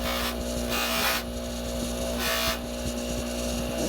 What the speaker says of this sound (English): Also polish around the head since we did stone setting.